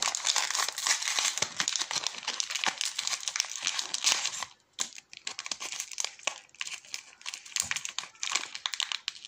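Plastic packaging around a Brawl Stars toy crinkles and crackles up close as it is torn open, a dense, continuous rustle that briefly thins near the middle before resuming.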